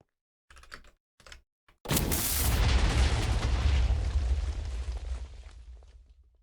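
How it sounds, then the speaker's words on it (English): A mini TNT cannon detonates in Minecraft creative mode on MCC Island. A few quick clicks come first, then a loud booming blast that rolls on as a long, rumbling roar. "Mini TNT cannon."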